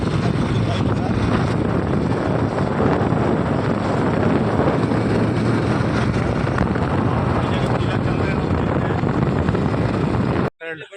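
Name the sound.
riding motorcycle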